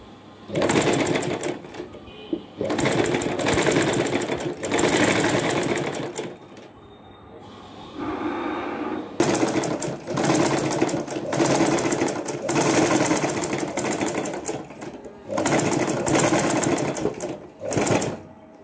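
A sewing machine stitches a blouse neckline in several long, loud, close runs separated by short pauses, with no talking.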